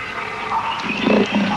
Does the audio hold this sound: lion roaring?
yes